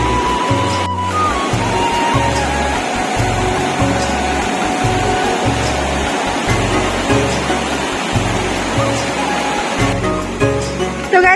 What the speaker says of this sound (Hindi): नदी देखो कैसी आई है